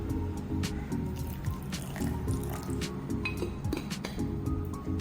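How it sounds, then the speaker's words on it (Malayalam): Water is poured into a blender with aloe vera to make a drink, giving a steady liquid splash and dripping with light clinks of the container, and no voices. "ഞാൻ കുറച്ചുകൂടി വെള്ളം ചേർത്ത് ഇവിടെ എടുക്കുവാണ് ബ്ലെൻഡ് ചെയ്യാൻ"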